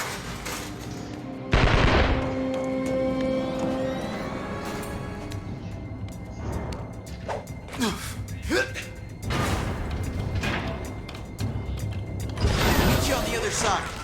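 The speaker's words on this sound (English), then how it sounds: "Could you please ask them to stop shooting at me?" Gunfire and mechanical clanks from The Amazing Spider-Man video game, with bursts and single sharp shots scattered across a busy scene, mixed with game voices talking.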